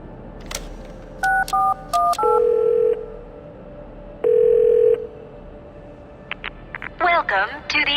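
Mobile phone dialing in the video game The Darkness: a rapid run of distinct keypad tones, then two longer held tones, with faint background hum and a short burst of electronic chirps at the end; no talking.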